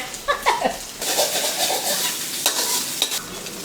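Rice stir-fries with real butter for crab fried rice, a loud crackling sizzle with clattering stirs and scrapes, close and busy throughout.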